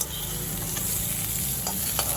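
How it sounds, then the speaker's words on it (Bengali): Pointed gourd pieces fry in oil in a wok over a low-to-medium flame, giving a steady close sizzle broken by a few sharper scrapes as they are stirred. "এবার ফ্লেমটা আমি লো টু মিডিয়াম করে দিলাম, দিয়ে একটু পটলটা ভাজা ভাজা করে নেব।"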